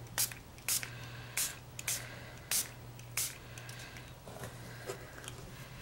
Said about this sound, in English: I'm going to shake up the spritzer bottle and spray the champagne mist shimmer paint I created all over my card